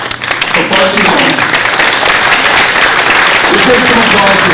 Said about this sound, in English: We take some applause for civil rights